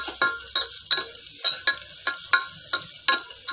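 Brown rice stir-fried with masala in a pan, with rhythmic scraping and tossing strokes roughly every third of a second over a light sizzle, close and clear, no voices.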